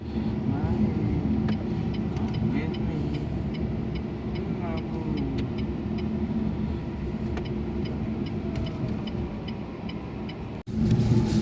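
Bestune Pony small car cruising on a highway at about 80 km/h, heard from inside as a steady, fairly quiet road and engine drone with tire hum, ending with a brief dropout and a louder bump.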